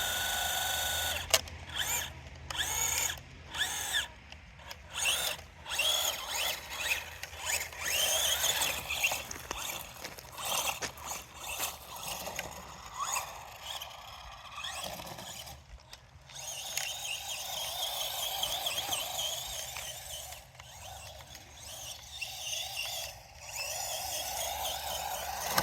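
A cheap 1/16 GoolRC micro RC car whines and strains through long grass, its small electric motor buzzing unevenly with stuttering surges and brief stalls, faint and close throughout.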